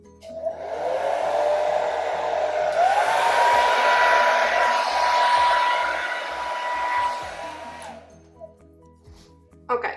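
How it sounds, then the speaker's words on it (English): A hair dryer blows steadily on an acrylic paint pour for several seconds, a close, continuous whooshing roar that rises and then cuts off, with a voice talking over it. "So what I have to do is use a hairdryer."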